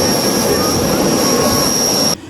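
A private jet's engines whine loudly inside the cabin before takeoff, a sustained high-pitched turbine tone over a dense roar that cuts off abruptly at the end.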